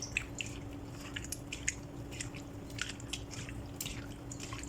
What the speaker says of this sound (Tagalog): So haluin.